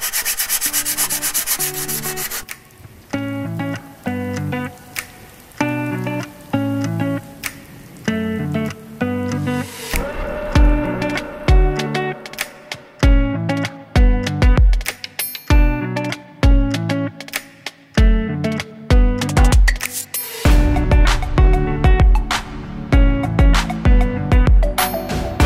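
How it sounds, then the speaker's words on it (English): Cured microballoon filler on a vintage Barnstormer 25S RC model plane is sanded by hand: close, rhythmic rasping strokes that repeat steadily and grow heavier and denser partway through, with no voices. "you kind of watch how easy it is to sand this stuff"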